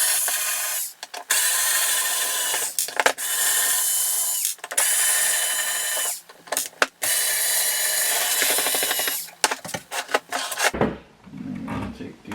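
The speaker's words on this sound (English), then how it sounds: "we are going to take our screwdriver, install that right there, and watch how lickety split quick this is" A powered screwdriver spins gearbox screws out of a VFC H&K 416 airsoft rifle, a loud steady whirring motor in long bursts broken by short pauses, ending with a clunk as it stops; no talking.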